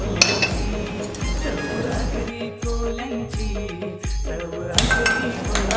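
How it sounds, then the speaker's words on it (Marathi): A metal kadhai is set down on a gas stove, making several close, bright clinks and knocks of metal on metal with low kitchen background noise between them. "कढई ठेवले, गॅस चालू केले"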